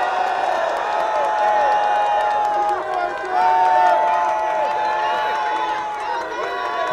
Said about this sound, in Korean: 우리 재학생들을 위해 박수 한번 쳐주시면 감사하겠습니다.